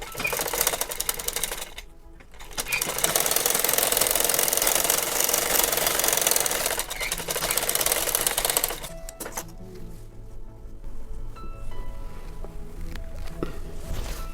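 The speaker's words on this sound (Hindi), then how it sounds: "तो ऊपर से स्टिच करना शुरू करेंगे।" Sewing machine stitching a lehenga choli, a rapid loud mechanical whirring run with short pauses, then quieter handling sounds and softer intermittent stitching toward the end.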